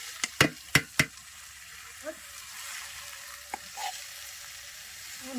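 Boiled water spinach fries in a wok of oil with chili, onion and garlic: a quick series of sharp spatula clanks, then softer scrapes over a faint sizzle.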